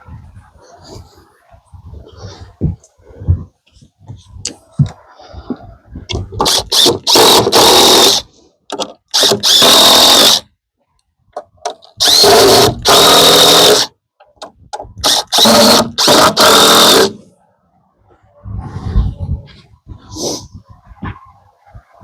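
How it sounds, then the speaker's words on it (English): A power drill drives screws through a board into the cripples under a window header on a load-bearing wall of a small 8x8 tiny house build, with several loud sustained whirring bursts separated by pauses and handling noise, no speech. "I'm going to screw them from the bottom, put the board across, screw them from the top"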